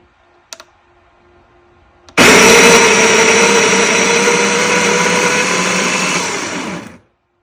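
After a couple of faint clicks, an electric burr grinder starts up and grinds espresso roast coffee beans with a loud, steady, close whirring buzz for about five seconds, then stops abruptly.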